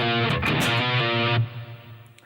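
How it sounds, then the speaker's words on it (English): Distorted electric guitar plays a short run of octaves, several picked notes in quick rhythm with scratchy pick attacks, loud and close, then muted into a faint low tail. "And now we're going to play some octaves."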